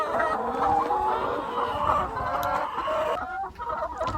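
A dense flock of chickens on an egg farm in Jamaica clucks steadily and close by, with a few crowing calls rising out of the continuous, busy chatter of the birds.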